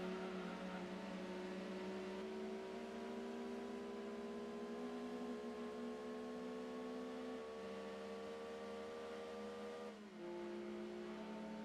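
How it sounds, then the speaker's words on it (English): A car engine in the Gran Turismo 2 racing game holds a steady, droning hum with its pitch slowly sliding, then dropping sharply near the end as if shifting gears. It plays alone without talk. "Gran Turismo car sound"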